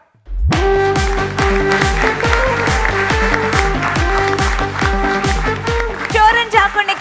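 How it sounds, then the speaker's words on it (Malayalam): Audience applause in a comedy show studio, loud steady clapping that starts abruptly and holds for several seconds, with a rhythmic thumping musical beat running underneath. "നല്ലൊരു കൈയടി കൊടുക്കാം"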